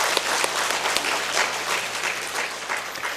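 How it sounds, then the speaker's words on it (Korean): Congregation applauding in a church service, a dense steady wash of clapping hands that carries through the whole stretch at even loudness with no voices on top. "하나님께 영광의 박수 올려드립니다."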